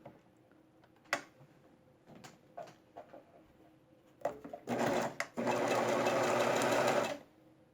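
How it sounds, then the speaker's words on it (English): A sewing machine stitches fabric strips together for a quilt star block, starting with scattered clicks and handling taps before a steady, close, continuous whir of stitching that runs for a few seconds and then stops. "I'm just going to put the right sides together, matching the top there, and I'm just going to sew."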